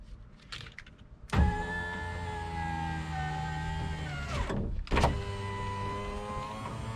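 The front power window motor of a 2019 Toyota Sienna whirs with a steady electric hum as the glass travels, stops with a clunk near the five-second mark, then runs again with a slightly lower drone.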